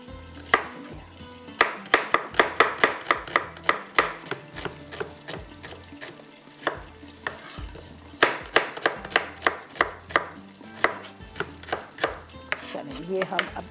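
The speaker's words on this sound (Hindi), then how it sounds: "इसके अंदर मुझे चाहिए टमाटर भी चाहिए, प्याज भी चाहिए, ये भी हम कटिंग कर लेते हैं" Tomatoes and onions are chopped with a knife on a board: crisp, rapid runs of knife strikes in bursts with short pauses between them, close and clear.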